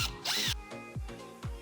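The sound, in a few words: power drill making holes in a wall for camera mounting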